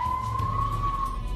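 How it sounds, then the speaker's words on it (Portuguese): An ambulance siren holds a steady, loud wail with a slight rise in pitch, close by and over low traffic rumble, with no voices. "Olha este barulho da ambulância também."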